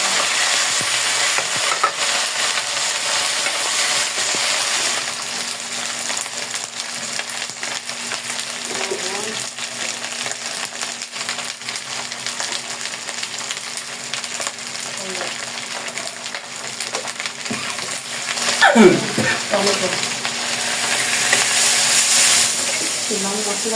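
Tomato masala sizzles and fries steadily in a pan for a vegetarian young jackfruit dish, with repeated stirring scrapes, a brief louder clatter near the end, and faint background sounds throughout.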